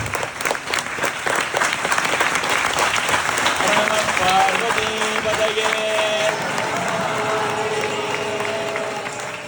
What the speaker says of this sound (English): please give a good round of applause for the priest